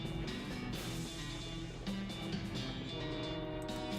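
A train rolling along the rails in the video game West of Loathing makes a steady, close rumble with faint clatter throughout and no voices.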